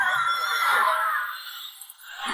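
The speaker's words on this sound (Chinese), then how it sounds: "林夕还是无法忍受疼痛呐喊出来" A woman screams in pain in a TV drama, a loud, sustained high-pitched cry lasting about two seconds that wavers and tapers near the end, close and alone.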